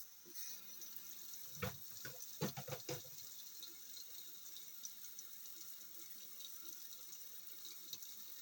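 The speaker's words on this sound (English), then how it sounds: "I'm going to just add cold water to this." Water pours steadily into a pot with a soft, continuous trickle, a few clunks of the pot near the start, fairly quiet throughout.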